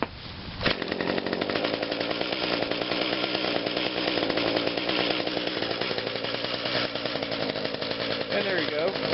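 A small two-stroke engine catches on the pull-start cord after a brief rattle, then runs steadily at a loud, buzzing, chainsaw-like idle, close up, for the rest of the stretch.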